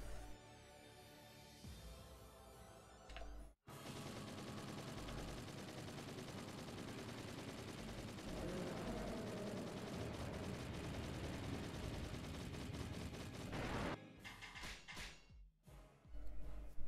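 An arbalest firing bolts in the video game Warriors Orochi 3 Ultimate, a dense, sustained barrage of shots with booming impacts, loud and continuous for most of the stretch before breaking into scattered bursts.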